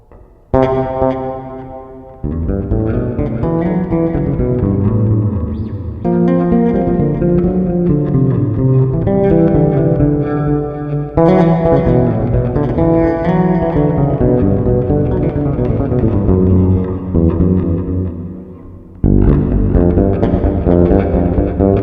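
Sustained bass guitar chords ring out through a NUX Atlantic delay and plate reverb pedal, with a wash of reverb and repeating echoes, played continuously with a few brief gaps between phrases.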